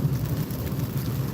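Steady rain pouring while driving on a highway behind other traffic, a dense continuous hiss with low road rumble underneath, constant and fairly loud with no pauses.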